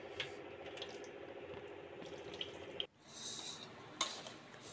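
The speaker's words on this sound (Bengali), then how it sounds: "জল দিয়ে পরিষ্কার করে ধুয়ে নিচ্ছি।" Tap water runs steadily over potatoes being rinsed in a sink, with a brief break and faint clinks, then the flow resumes. No one speaks.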